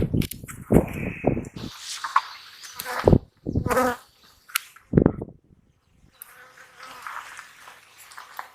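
Honey bees buzz inside a hive behind a plastic screen, a steady hum with louder bursts as insects pass close, broken by a few sharp handling clunks and rustles.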